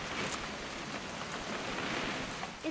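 Steady rain falling over a weekend, a dense, even hiss of drops with no voices.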